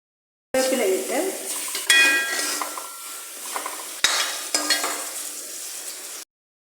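Curry leaves and mustard seeds sizzle in hot oil for a beetroot pickle, with steady frying hiss broken by scraping stirs and a couple of sharp clinks of a spoon against the pan, close up and without talk.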